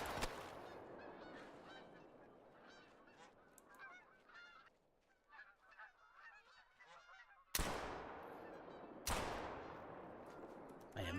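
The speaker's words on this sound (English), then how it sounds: "Sounded like we had some Canadian geese coming in." Canada geese honking in the hunting video game Call of the Wild, a dense flock calling continuously with layered honks. Two sharp, loud gunshots ring out near the end.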